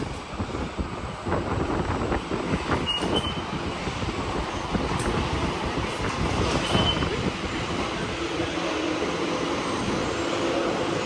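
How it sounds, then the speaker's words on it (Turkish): A metro train rumbles into a station in Tokyo, a steady low roar of wheels on rails with faint squeals, continuous and fairly loud. "Geldi metro."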